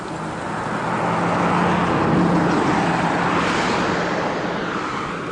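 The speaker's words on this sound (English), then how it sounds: "Lots of cars coming down." Cars travel down a mountain road near a trail, one vehicle swelling into a close, loud pass and fading again, its broad tire and engine roar alone for several seconds.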